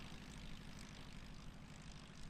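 Cessna light aircraft at the Wayne STOL competition, with a steady propeller and engine drone holding at a moderate distance, fairly faint and unbroken, no voices over it.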